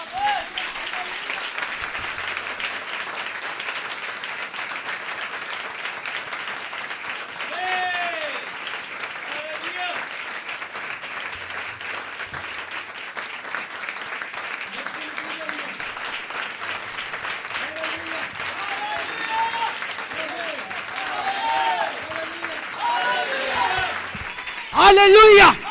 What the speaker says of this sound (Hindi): आपको जितनी बरकत मिली है जरा उतनी तालियां बजाएं।